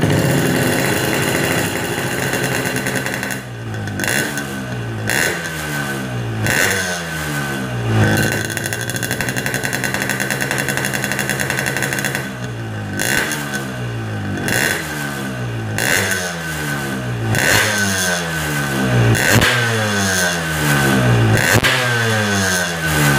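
A Yamaha RX King two-stroke motorcycle engine being revved repeatedly during carburetor tuning on a lean setting, close and loud, rising and falling throttle blips over a rough idle, with no talk.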